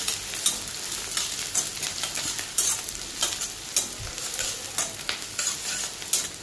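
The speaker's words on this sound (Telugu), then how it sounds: "ఆనియన్స్ కూడా చక్కగా వేగిపోయాయి." Sliced onions frying and being stirred in a pan for chicken gravy, a steady close sizzle broken by repeated scraping stirs, with no voices.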